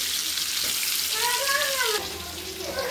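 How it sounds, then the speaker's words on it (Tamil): Tuna pieces frying in a pan for a chilli fish dish give a steady, close hiss of sizzling oil that carries on without a break, with faint tonal sounds rising above it partway through. "நல்லா இதுவும் பொரியுதுமா."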